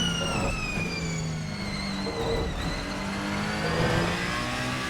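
A Ferrari 499P race car in the driving game Assetto Corsa screams at high revs with a sharp, harmonic-rich engine note, rising and dipping slightly through gear changes over a steady road roar.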